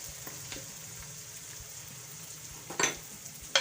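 Dry spices, tomatoes and green chillies sizzle softly as they roast in a pan for dhaba-style daal maash, with a low steady frying hiss and a few sharp scrapes and clinks of a spoon near the end.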